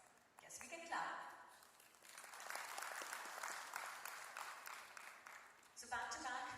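An audience at an inauguration ceremony breaks into steady applause that swells and holds for several seconds, with brief speech at the start and end.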